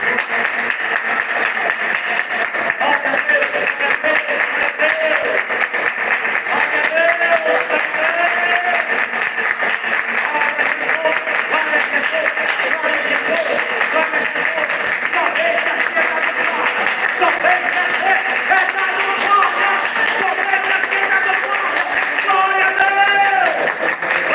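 A church congregation claps along during a sermon, steady rhythmic clapping that runs continuously under voices and singing-like tones.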